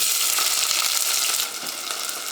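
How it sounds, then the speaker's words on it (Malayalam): Sliced onions hiss and sizzle in hot oil with bay leaves, a dense, even frying crackle heard close up that eases slightly partway through, with no voices. "ഇതിലേക്ക് നമുക്ക് സവോള ചേർക്കാം"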